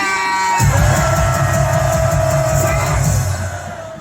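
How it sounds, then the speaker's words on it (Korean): Large crowd at a political rally erupting into a roaring collective shout on cue, loud sustained cheering and yelling from many voices that holds for about three seconds before trailing off, with a steady tonal hum beneath. "함성 3초. 시작"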